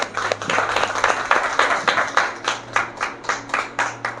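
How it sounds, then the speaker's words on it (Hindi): Members of a church congregation at a Sunday worship service clap together in a steady, rhythmic beat, the claps close and evenly spaced with no talking over them. "सब ताली बजाएंगे प्रभु की महिमा के लिए।"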